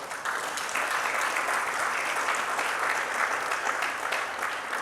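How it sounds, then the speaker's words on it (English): A crowd of staff clapping to mark 2,000 life-saving cath interventions in Batticaloa, Sri Lanka, the applause starting abruptly and continuing as a thick, even roar of hands. "I think you all deserve a round of applause"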